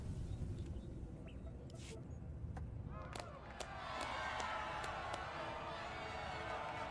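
A crowd cheers and shouts in Star Wars: The Old Republic during a Bounty Hunter arena scene, a busy mid-level roar mixed with sharp game effects and a voice talking over it.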